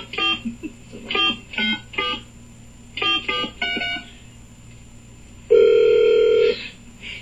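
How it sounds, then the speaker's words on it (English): A telephone being dialed by phone for a radio prank call: two quick bursts of touch-tone beeps, then a steady dial or ringback tone, heard close and clear with no talking. "So what I'd like to do, Clay, is call them right now with the actual Clay Aiken on the phone"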